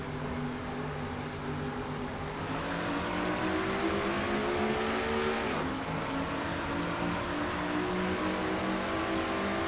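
Race car engine in a NASCAR-style racing video game at the Brickyard 400, heard from the in-car view on a restart, roaring steadily and loud throughout, with rising pitch as the driver upshifts into fourth gear coming off turn one.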